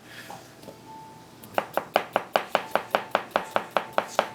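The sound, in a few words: chopping food with a knife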